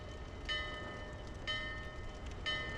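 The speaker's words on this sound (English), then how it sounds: "you can ring this bell with an arrow" A bell struck by arrows in Dark Souls 2 rings out three times at even one-second intervals, each a bright metallic clang with a ringing tone, heard over a steady low background hum.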